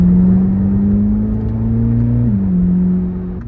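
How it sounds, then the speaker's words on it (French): A car engine running with its exhaust valve open in Z mode drones loud and close with a steady low hum that dips slightly in pitch near the end, alone without talk. "Juste en mode Z, donc ça c'est l'échappement ouvert."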